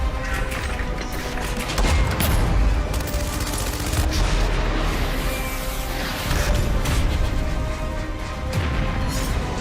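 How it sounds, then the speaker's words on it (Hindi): Artillery guns firing at a frontline base on the China border: a dense, continuous barrage of loud, overlapping blasts and rumbling reports that fills the whole stretch without a break. "फ्रंटलाइन बेस पर बारूद बरसाने को तैयार तोपें।"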